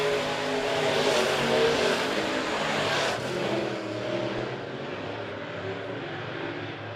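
Race cars lapping a speedway during a dirt heat race, a steady broadband engine roar from the field passing at mid distance, swelling and easing slightly with no talk over it.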